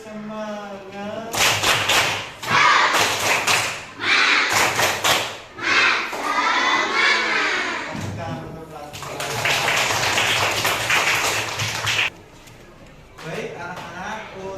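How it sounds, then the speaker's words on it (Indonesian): Schoolchildren in a classroom beat out a rhythmic spirit clap together, quick patterned bursts of clapping and thumps alternating with their chanted voices and a teacher's voice. "Tepuk semangat."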